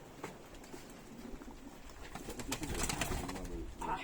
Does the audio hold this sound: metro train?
no